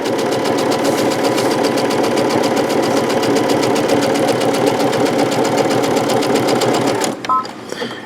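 A sewing machine runs continuously while edge stitching a wallet, a loud, close, rapid mechanical chatter that holds steady for about seven seconds before stopping abruptly, with faint handling sounds after.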